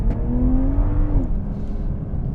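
Toyota GR Supra 3.0 straight-six engine pulling under half throttle on the road, a loud steady drone with a rising tone that levels off, heard from inside the car.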